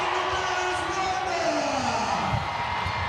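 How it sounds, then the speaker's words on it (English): Crowd noise at a Banana Ball baseball game, a continuous roar of cheering and whooping from a large stadium audience, dense and steady with a faint tone running underneath. "Good applause for Margie."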